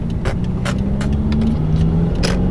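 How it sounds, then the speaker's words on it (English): Subaru WRX with a big rear wing driving along, its engine a steady low hum under broadband road noise, with a few brief scraping or rattling bursts on top and no talk. "Driving the Subaru, everybody."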